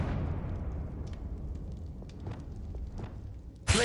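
A Confringo explosive spell blast in Hogwarts Legacy, a dense low rumbling roar that rolls on under faint sparkling crackles and ends in a sudden loud burst.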